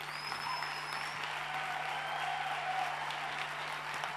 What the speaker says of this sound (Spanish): Un muy fuerte aplauso al pastor Bernardo Stamateas.